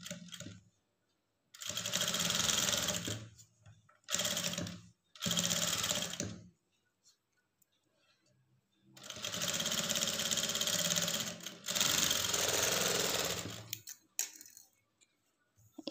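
Bursts of a sewing machine stitching a lined blouse, with several loud close runs of a few seconds each separated by quiet gaps, heard alone without talking.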